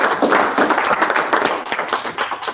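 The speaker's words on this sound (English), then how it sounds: "Let's give Michael another round of applause" A small audience at a WellCare graduation gives a graduate a round of applause, brisk close-up clapping from a modest group that stays fairly steady and then begins to taper.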